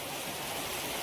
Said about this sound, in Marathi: सगळ्या रवाने बघा पाऊस पडता.